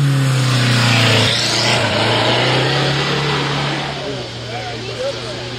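A 1929 Austin 7 vintage racing car engine at a hillclimb event, loud and close, with a steady droning note that shifts pitch as it pulls away and fades slightly, while people shout and talk over it.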